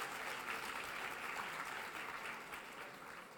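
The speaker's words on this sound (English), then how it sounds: "Give them a round of applause" Faint, distant applause from the audience at a Black College Queens competition, honoring the preliminary judges, holds as an even, continuous patter of many hands for the whole stretch.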